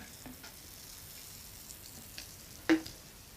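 Homemade energy drink fizzing in a glass after being poured, a faint, steady crackling hiss of bubbles with a few soft pops and one brief louder knock.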